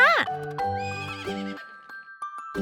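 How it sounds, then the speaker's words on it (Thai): A cartoon horse whinnies loudly, a high shrill neigh that falls away, followed by quieter snorts and a few soft knocks. "ลูกม้าเกิดมาก็เดินได้เลยนะ ม้าร้อง"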